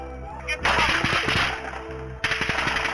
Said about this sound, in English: Officer Brady Cook is shot. The moment captured on another officer's body camera.